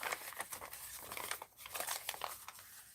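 Paper for a mixed-media art journal is cut with scissors at close range, giving soft crinkling and snipping sounds in a quiet room, with no voices.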